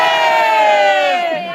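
A loud, close crowd roars and cheers enthusiastically for an Italian rock band, a dense burst of many voices shouting that fades slightly at the end.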